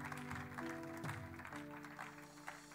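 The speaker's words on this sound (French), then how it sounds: "Acclame encore, acclame encore." A church congregation applauds during a French-language sermon: steady, dense clapping that fills the room, with a music or voice tone sustained underneath.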